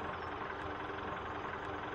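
Idling tractor engine from Farming Simulator 17 gives a continuous low, even drone with small periodic crackling ticks, heard alone without talk.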